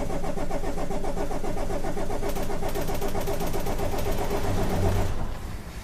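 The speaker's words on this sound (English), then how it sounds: "if I lean out of the way and press the start button," A bus with an immobilizer fault cranks on the start button without firing, the starter motor whirring in a steady rapid chug for about five seconds before it cuts off, with no talking.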